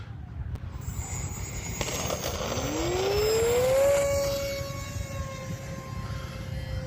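RC airplane in flight with a buzzing motor tone that rises in pitch as it swoops past, growing louder then easing off over steady outdoor background noise.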